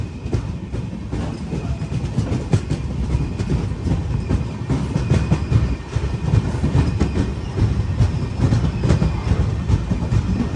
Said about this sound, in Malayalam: 241 കിലോമീറ്റർ യാത്ര ചെയ്ത് ട്രെയിൻ ഇതാ മുരുടേശ്വർ റെയിൽവേ സ്റ്റേഷനിലേക്ക് എത്തിക്കൊണ്ടിരിക്കുകയാണ്